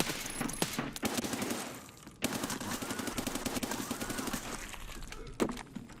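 Rapid bursts of automatic gunfire in the Escape From Tarkov shooter ring out in dense, repeated volleys with sharp individual cracks, moderately loud and continuous throughout with brief gaps.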